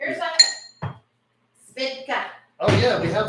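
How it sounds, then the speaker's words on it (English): Ice cubes dropped into a drinking glass in a home kitchen make a few bright clinks, close and loud, between brief bursts of people talking. "So get some ice in your glass, because that's, right, ice, it needs to be over ice."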